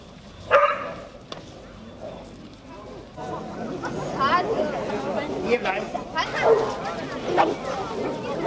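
Hunting hounds at a riding-to-hounds event bark and yip in a pack at a castle courtyard, excited overlapping barks rising after a brief lull, with crowd chatter underneath.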